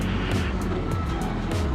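Heavy road traffic near Bengaluru Airport, crowded with cabs: a loud, dense engine rumble from nearby vehicles, with several passing whooshes overlapping in quick succession.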